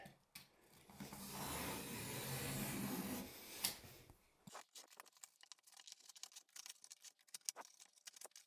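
A utility knife scores a shower board during a tub-to-curbless bathroom remodel, giving a close, steady rasping scrape for about four seconds, then a sharp snap and a scatter of light taps and clicks.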